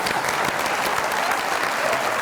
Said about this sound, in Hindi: बहुत ज्यादा तालियां सानिया के लिए